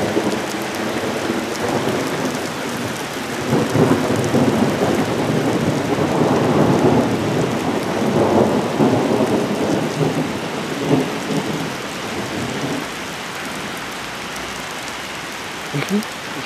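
Thunderstorm over Kimovsk with steady heavy rain and rolling thunder rumbles swelling in the middle, continuous and fairly loud, with faint voices in the background.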